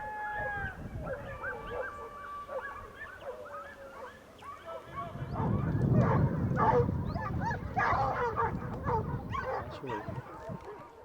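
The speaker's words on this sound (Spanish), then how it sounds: "Veremos si los perros consiguen dar con él." Hunting dogs bark and yelp during a boar hunt, the barks thin and distant at first over a steady background, then growing louder and denser as several dogs give voice together in rapid overlapping bursts.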